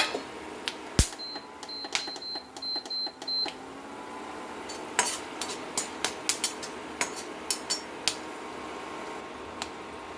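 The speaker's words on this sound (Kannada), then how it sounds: "ಮೆಣಸು ಚೆನ್ನಾಗಿ ಆಗಬೇಕು. ನೋಡಿ, ಶಬ್ದ ಬರ್ತಿದೆಯಾ?" Black pepper roasting in a dry pan, a series of sharp, irregular pops and crackles at moderate distance over a quiet background, with a faint beeping early on.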